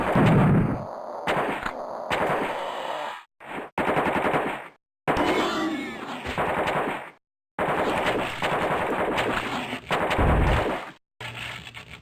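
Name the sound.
gunfire in video game AOPID Total Carnage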